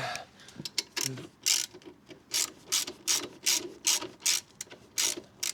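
A Honda CB125F motorcycle's wheel axle is turned and pushed out by hand, giving a close, steady run of short metallic scraping and clicking bursts with no talking.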